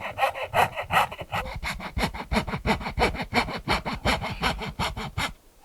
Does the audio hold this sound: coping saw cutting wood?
yes